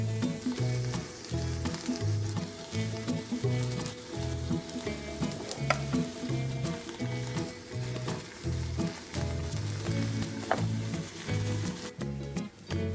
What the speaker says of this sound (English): Now we'll saute them.